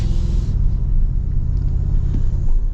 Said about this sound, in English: Now you can hear the raised air intake even with the window rolled up.